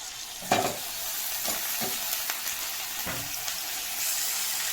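Steady sizzle of cabbage frying with onions in a pan, broken by several scraping stirs of a spatula, close and moderately loud with no talking.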